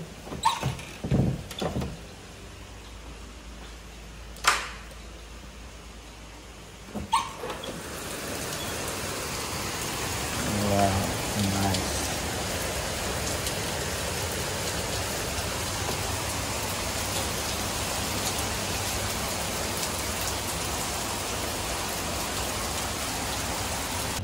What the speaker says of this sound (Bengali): আজ সকাল থেকে বৃষ্টি হচ্ছে।